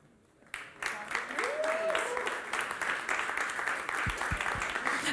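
Applause from an audience at a startup pitch showcase in Tampere, a steady spread of many hands clapping at moderate level that rises suddenly and carries on, with a voice speaking faintly over it.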